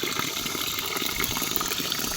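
Small spring spout in a remote village below the mountains, its water splashing and gushing steadily and close by, a continuous broadband rush with no voices.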